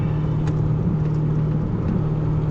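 Chevrolet Corvette engine droning steadily at close range while driving, a low sustained hum with slight swells and no voices.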